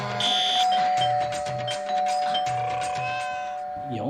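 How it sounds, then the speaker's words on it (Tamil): An electronic doorbell rings a repeating chime melody, loud and near, ending with a short rustle. "எவங்கள இது இந்நேரத்தில் காலிங் பெல் அடிக்கவன்?"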